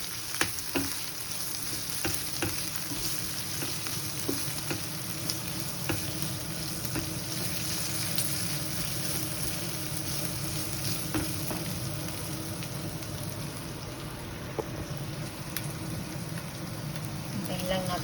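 Lomi ingredients, including liver, frying in a pan, a steady close sizzle and crackle with occasional stirring clicks throughout, while a person talks quietly at times.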